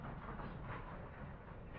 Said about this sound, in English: That looked like a freight train that came past pulling some old